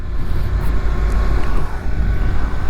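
Riding a Honda NC750XA motorcycle: a steady low engine drone mixed with strong wind rush over the microphone, loud and continuous throughout.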